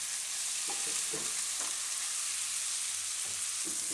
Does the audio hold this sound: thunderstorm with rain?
no